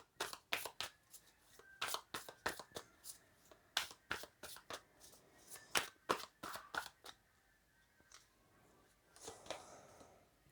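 Tarot cards being shuffled by hand: close, quiet bursts of riffling and snapping card edges in quick irregular clusters, with brief pauses between handfuls.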